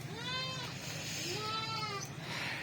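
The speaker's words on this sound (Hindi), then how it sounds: "मैं गया था अदनान भाई के पास, ये मैं उनसे बकरा ले के आया हूँ।" A young goat bleats on a rooftop goat farm, giving several wavering, fairly close calls over steady background hum, with no talk heard.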